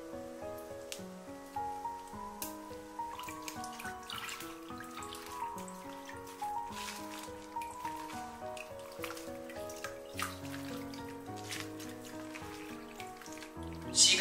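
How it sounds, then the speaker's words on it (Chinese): Chives are rinsed in water with soft, irregular drips and trickles and small splashes as the leaves are handled. The sound is quiet and close, with no voices. "一根一根的清洗，特别是韭菜叶缝中容易藏泥沙杂质，一定要仔细的清洗干净。"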